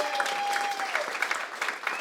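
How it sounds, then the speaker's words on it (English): Theatre audience at a new musical theatre showcase breaks into a sustained round of clapping, a dense steady patter of many hands that swells slightly and holds throughout, with a faint tone running underneath. "massive round of applause for Pob at the back there."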